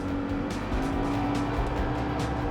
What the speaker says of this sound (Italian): Abbiamo un due tempi grintoso, è difficile tenerlo a bada.